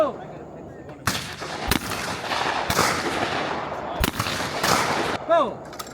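Gunfire at a clay shooting range, with several loud sharp shotgun blasts spaced irregularly over six seconds, each with a short echoing tail, and brief voices in between.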